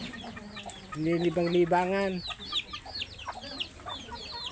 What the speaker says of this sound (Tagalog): At dito pala yung mga manok ng kapatid ko.